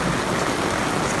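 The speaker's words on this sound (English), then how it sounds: "Look at all this rain." Heavy rain pours steadily onto a Kodiak Canvas Flexbow canvas tent, a dense, loud, continuous patter and hiss with no break and no one talking.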